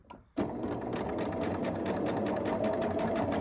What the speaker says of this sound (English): now they're nested and I'm going to sew down the side